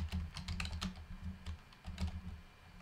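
Rapid clicking of keys on a computer keyboard, close and crisp, in quick irregular bursts with a brief pause midway and no talk.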